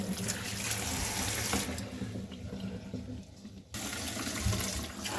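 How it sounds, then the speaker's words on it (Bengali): Tomatoes being washed under a running kitchen tap, a steady close hiss of flowing water that dips briefly and returns, with no talking. "টমেটোগুলো আগে পরিষ্কার করে ধুয়ে নিই"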